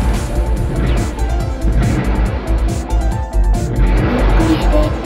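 A mobile suit launches in Gundam Online, a loud continuous mechanical roar and rush with rising whooshes and rumbling low end, close and alone for about five seconds.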